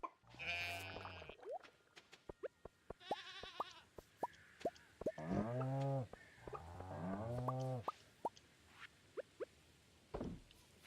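Sheep in the Stardew Valley video game bleat several times over about ten seconds, loud wavering calls with short pauses between, mixed with clicky game sound effects and no talking.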